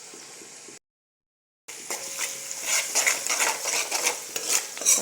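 Onions with a tablespoon of salt stirred in a frying pan for a spinach-type shaak, soft sizzling with scraping spoon strokes after a brief silent gap, steady and close.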